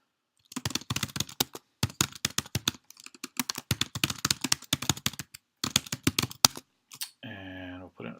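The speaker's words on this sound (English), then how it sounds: "type in my information" Computer keyboard keys clacking in quick irregular bursts while account information is typed, with short pauses between runs, close and fairly loud, ending in a brief mechanical whirr.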